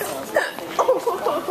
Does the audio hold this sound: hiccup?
yes